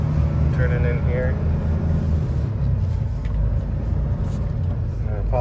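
A PACCAR truck with an automated Endurant 12-speed transmission drives in fourth gear, its engine a steady, loud low rumble throughout, with some faint background noises over the drone.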